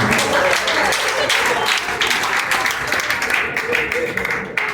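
Audience applause fills an educators' reception at a global teacher summit: dense, steady clapping from a sizeable crowd, loud and close, running for the full stretch with faint voices mixed in.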